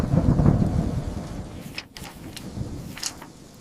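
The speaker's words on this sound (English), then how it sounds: "Wow, the rain really picked up." Heavy rain pours steadily in the hills while thunder rumbles loudly at the start, then the downpour keeps hissing on with fainter rolls afterward.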